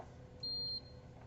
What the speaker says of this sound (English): Right touch line has to be ground, you're going to see a beep.